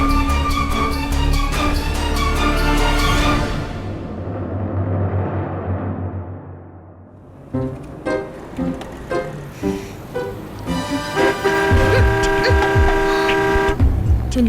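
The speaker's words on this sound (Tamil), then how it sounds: "என்ன சும்மா ஹார்ன் அடிக்கிறேன்னு தெரியல." Several short car horn toots sound in bursts over busy street noise, with a louder stretch of music-like harmonic tones and traffic rumble around them.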